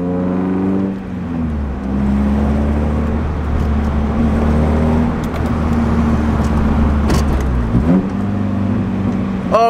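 A Nissan 240SX fitted with blast pipes drives loudly, its engine droning at a sustained, strong level with audible gear changes near the start and end, heard close from inside the car.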